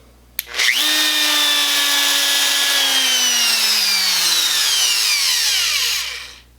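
A repaired CNC router spindle motor starts with a click, then winds up to a loud, high, steady whine for about four seconds before spinning down to silence, heard alone.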